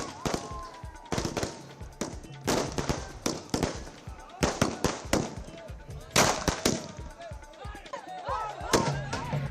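Firecrackers burst in a village celebration, a rapid irregular series of sharp cracks and pops over several seconds, with crowd chatter and voices mixed underneath.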